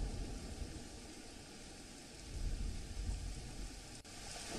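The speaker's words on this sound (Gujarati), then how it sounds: "તો હાલ પણ વરસાદ પડી રહ્યો છે, જાંબુઘોડાના બજારોની અંદર પાણી ભરાઈ ગયા છે." Rain falls on Jambughoda in Gujarat's Panchmahal district during a monsoon downpour that floods the market streets, a faint, steady wash of rain with a low rumble, continuous and distant-sounding, no voices present.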